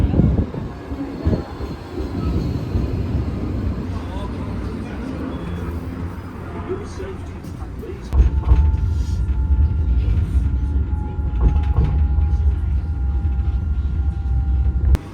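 A Sydney light rail tram rumbles into Circular Quay station, steady mechanical drone with brief wheel squeal, growing louder and deeper as it pulls close and settles nearby.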